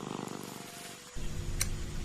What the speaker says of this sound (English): the purring of the kitten